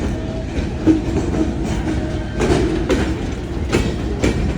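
A goods train rolls into a railway station in Pakistan, its wagons clattering rhythmically over the rails with a few sharper metallic bangs, close and loud, with no talk.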